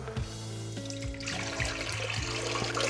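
Warm water, around 50-60 °C, pours steadily into a bowl as part of preparing potato-stuffed dumpling dough, a continuous close splashing stream with changing pitch as the bowl fills.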